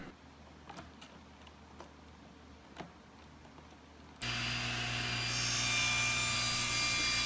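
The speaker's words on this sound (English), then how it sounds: "I'm cutting some support boards at long angles to match the existing angles on the walnut, and I'm using my tapering jig" Support boards are cut at long angles on a table saw with a tapering jig for a walnut cabinet. A few light knocks sound first, then the saw starts abruptly with a loud, sustained whine and cutting roar.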